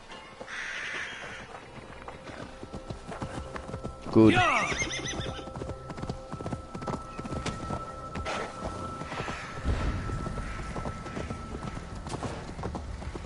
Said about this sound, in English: Bring the horse.